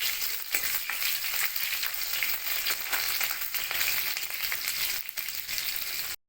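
Panch phoron, whole cumin and onion frying in hot oil, a loud, dense, continuous crackling sizzle up close that holds steady throughout before cutting off abruptly at the end.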